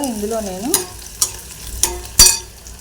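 Parboiled onions fry in a pan with a low sizzle, broken by four sharp spoon scrapes and knocks spaced about half a second apart. A short tonal hum comes first.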